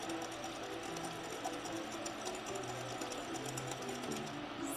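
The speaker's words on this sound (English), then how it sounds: "if you're using a stand mixer, have it running and carefully pour in a little bit at a time." A stand mixer runs steadily while mixing eggnog, a continuous close motor whir with a rhythmic mechanical rattle that holds at an even level throughout.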